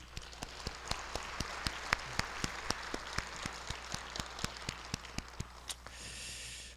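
Audience applause at a marine and fisheries outlook conference, a steady wash of clapping from a seated crowd with sharp, regularly spaced claps standing out near the front, tapering off at the end.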